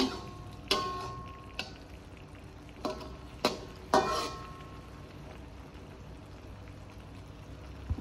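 Scattered clinks and scrapes of a utensil stirring cangkuk manis leaves and egg frying in a pan over a soft background sizzle, with a few louder knocks spaced irregularly.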